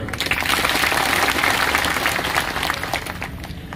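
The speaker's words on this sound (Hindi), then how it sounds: "जो मंच पर लोग बैठे उनके लिए जोरदार ताली बजाओ।" A large crowd applauds at a BJP Jan Aakrosh political rally led by the state party president. Dense, loud clapping runs continuously for a few seconds without any speech.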